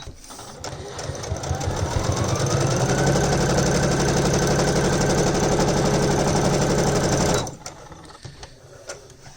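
A sewing machine runs steadily for several seconds, stitching fabric for a bag organizer, its rapid mechanical hum loud and close before it abruptly stops.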